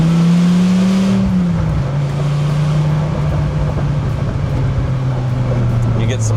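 A third-generation Dodge Viper V10 rumbles off throttle with a low, steady exhaust drone while driving, the pitch easing slightly, loud and continuous inside the car.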